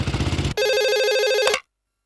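A telephone rings loudly and close by: a rapid trilling bell burst, then a sustained warbling electronic ring lasting about a second before cutting off to silence.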